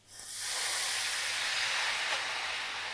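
Red wine poured onto frying onions in a hot pan for a Swiss bratwurst onion sauce, hitting with a loud, sustained steamy hiss that swells within half a second and holds steady close by.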